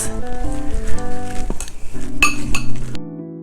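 Dates and walnuts are stirred with melted butter in a bowl, giving repeated clinks and scrapes of a utensil against the bowl in an uneven rhythm, close and fairly loud, ending abruptly.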